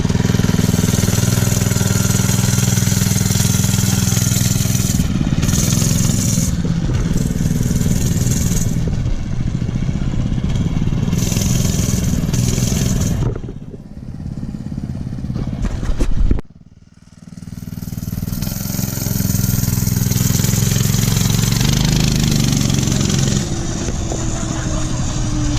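A Mega Moto 212cc minibike engine idles steadily and loudly up close, a continuous rumbling drone that dips briefly and then returns to a constant idle.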